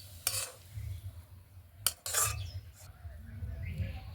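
A metal spatula scrapes and spreads cooked potato filling across a plate, with a few sharp clinks against the dish over quiet kitchen background noise.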